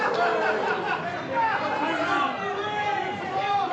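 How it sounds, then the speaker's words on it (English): A crowd at a live New Texas Pro Wrestling event in Austin jeers and heckles the wrestler Jackpot, a steady dense babble of many voices with shouts rising from the din throughout. "listen to the crowd giving it to Jackpot"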